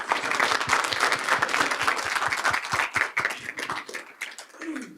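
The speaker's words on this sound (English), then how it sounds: "one last round of applause for all our awardees this evening" At a school board meeting, a crowd applauds the evening's awardees with lively, dense clapping and individual claps audible. It stays loud for several seconds, then thins and fades near the end.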